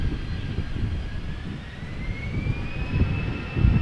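An easyJet Airbus A320 jet at Amsterdam Schiphol airport passes at a distance, a steady broadband engine roar with a rising whine, moderately faint and alone without talk.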